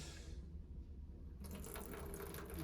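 Water poured onto an Aeropress paper filter set in a moka pot, a short splashing trickle of liquid hitting wet paper and metal that starts partway through, close and fairly quiet.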